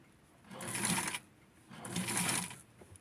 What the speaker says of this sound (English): I'm just gonna sew it up to that part